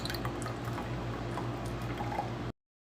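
Liquid pours steadily into a cup with a continuous gurgling splash, then stops abruptly after a couple of seconds.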